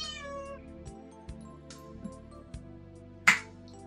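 A cat meows near the door of a room, a short harmonic cry at the start over a quiet steady hum, followed by a few soft taps and a sharp snap-like click near the end.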